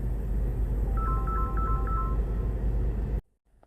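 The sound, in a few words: phone ringing with incoming call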